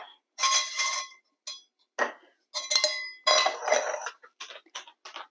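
A spoon stirs half and half into a mug of Nespresso coffee, giving bright clinks and scrapes against the cup in short, irregular bursts, close and distinct with quiet gaps between.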